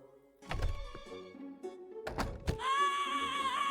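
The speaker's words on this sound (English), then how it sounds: "I love that you're having fun with our doorbell" A doorbell in the point-and-click adventure game Prim: two dull knocking thunks are followed by a bright, sustained chime that rings steadily to the end, fairly quiet.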